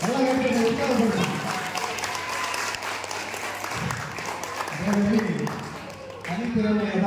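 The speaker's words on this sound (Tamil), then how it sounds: "நல்லா கைத்தட்டி உற்சாகப்படுத்தும்." A crowd at a church cultural arts program claps for dancing children, giving sustained applause with a few bursts of cheering and voices mixed into the steady patter.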